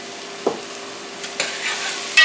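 Onions sauté on high heat in a pan alongside potatoes for shepherd's pie soup, a soft, low hiss of frying broken by a few sharp clinks and scrapes of a utensil against the pan.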